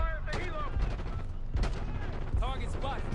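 Gunfire from the Black Ops 6 video game campaign, with repeated bursts of shots crackling through a dense battle mix, alongside shouting voices and radio chatter.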